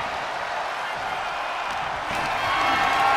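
An arena crowd in the WWE 2K24 wrestling game roaring and cheering in a steady wash of noise that swells louder toward the end.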